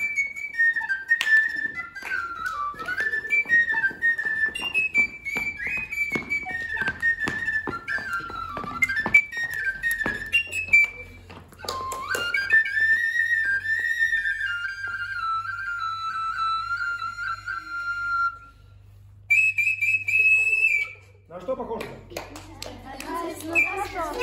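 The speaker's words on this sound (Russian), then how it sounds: "Это тоже дудь, но она со свистком, видите, свистком." A Russian folk wooden pipe fitted with a whistle mouthpiece, a svirel, plays a lively wavering melody with bright tones. Clapping, knocks and children's voices join in, and the pipe switches to high sustained notes near the end.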